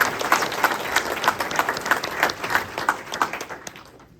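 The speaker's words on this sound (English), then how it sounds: "Please give him a round of applause and all the staff." An audience at a cystic fibrosis fundraising event applauds a nurse and staff, dense clapping from a crowd close by, steady for several seconds before gradually fading out.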